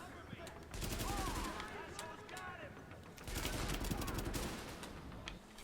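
Explosive-bullet gunfire in the video game The Division: two long bursts of rapid automatic shots, separated by a short lull, fairly close and punchy, with quieter sound effects between them.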